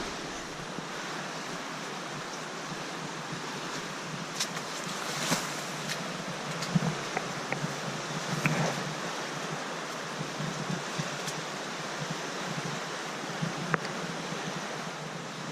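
Continuous rushing of a river running high after heavy rain, steady and full throughout, with occasional small splashes and knocks standing out from the flow.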